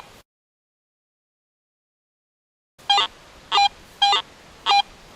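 A Garrett AT Pro metal detector sounds four short, evenly spaced electronic tones after a silence, each a brief beep as it passes over a quarter buried three inches deep beside a large nail.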